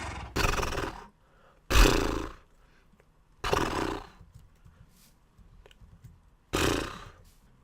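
Four separate breathy, snorting horse calls made as a Minecraft-style mob sound effect, loud and close, spaced a second or two apart with quiet gaps between.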